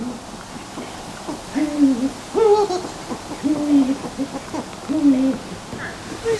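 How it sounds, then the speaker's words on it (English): Eagle owls at a zoo hoot back and forth in a calling exchange, with a series of deep, moderately loud hoots spaced about a second apart and a brief higher call near the end. "there is the other eagle owl that this one's been having a conversation with"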